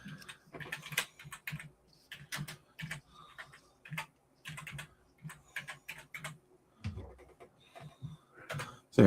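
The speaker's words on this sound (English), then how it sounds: "I tried typing in the wrong place" Quick, irregular typing on a computer keyboard, with clusters of clicking keystrokes and brief pauses, fairly quiet and close to the microphone.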